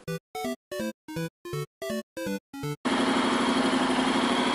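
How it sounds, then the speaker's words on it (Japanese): A string of short tonal beeps gives way to a Honda X-ADV motorcycle engine idling loudly and steadily up close with a buzzing, even rumble. "今エンジンかかってる状態ですね"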